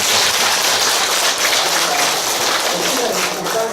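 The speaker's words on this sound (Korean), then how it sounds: "그 질문을 받아주신 우리 스님께 그 박수로 이렇게." An audience at a Buddhist dharma talk applauds the monk with dense, loud clapping that carries on evenly throughout.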